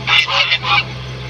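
Several loud, raspy calls from ducks at a livestock stable in Cyprus, in quick succession, close by, over a steady low hum.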